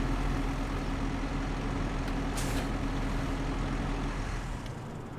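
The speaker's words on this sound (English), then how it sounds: "Tractor's under the canopy now." Tractor engine runs steadily under a tree canopy on a farm, a continuous low rumble with a brief hiss partway through, fading slightly at the end.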